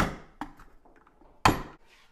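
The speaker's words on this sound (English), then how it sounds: "you just have to get a screwdriver and a hammer and just pop that out" A hammer striking a screwdriver to knock out the dishwasher plug on an InSinkErator Evolution Compact garbage disposal: two sharp metallic knocks, a lighter tap followed by a louder, ringing hit, close by with no talking.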